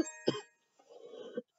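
A person coughs close by, two sharp bursts followed by a short rough throat-clearing rasp, with silence in between.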